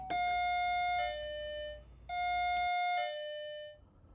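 A SadoTech wireless doorbell plays a two-part chime tone twice, bright sustained bell notes ringing out and decaying, loud and close with no talking.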